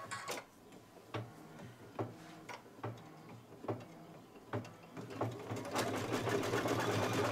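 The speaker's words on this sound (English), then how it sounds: "now it's going to do the satin stitch for the nose" Embroidery sewing machine stitching a satin stitch for a nose on a Kimberbell table topper: a steady rapid mechanical run with periodic louder clunks and ticks, building toward the end.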